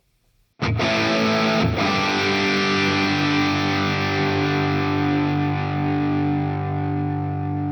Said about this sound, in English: I'm going to choose ping pong as I like that sort of big stereo delay sound